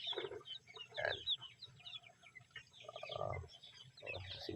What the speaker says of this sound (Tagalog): So ito, mga manok natin is darag po ito.